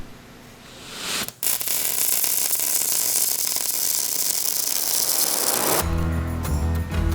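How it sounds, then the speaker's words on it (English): A PowerBall MIG welding gun lays a smooth weld with a steady, even sizzling hiss that starts with a sharp click and runs unbroken for several seconds before a lower hum takes over. "Now let's hear the same weld with the PowerBall MIG welding gun."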